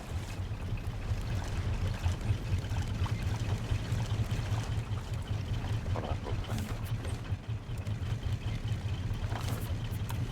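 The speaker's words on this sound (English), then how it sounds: "never realized how loud the engine was." Steady boat engine drone in the video game Raft, a loud continuous low hum with watery churning over it, running without pause throughout.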